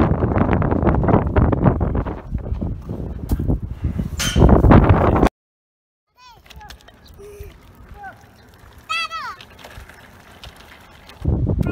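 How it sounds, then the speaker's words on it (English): A strong headwind roars and buffets against the microphone of a cyclist on the road from Lhasa to Kathmandu. It cuts off abruptly and gives way to quieter gusts, with brief voices and chirps before the wind surges again. "Headwind today, probably 30 miles an hour."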